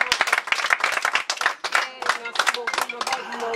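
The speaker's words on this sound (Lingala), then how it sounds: "Acclamez pour Maman Bomoko." An audience claps and cheers for Maman Bomoko at a charity gathering, with dense, uneven bursts of hand claps and excited voices running together throughout.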